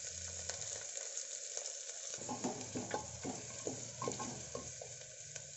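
Onions frying in a pan for a cowpea kurma, a faint sizzling hiss joined after a couple of seconds by rhythmic spatula scrapes and stirring clatter.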